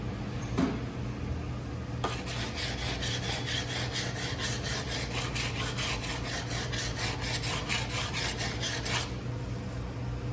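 Steady abrasive rasping of sanding on car body metal in a collision repair shop, a continuous close scrubbing with rapid back-and-forth strokes and no talking.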